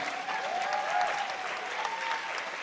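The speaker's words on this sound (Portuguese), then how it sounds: "eu queria pedir uma salva de palmas" Steady applause from a crowd, dense and continuous throughout with no break, fairly loud and close.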